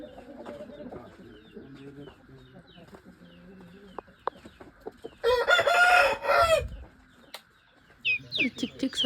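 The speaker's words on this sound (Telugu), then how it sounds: "ఈ చిక్ చిక్ సౌండ్స్ ఎంత బాగున్నాయో కదా." Village chickens, including a fighting rooster, clucking and chattering nearby, with one loud crow in the middle and more clucks after it.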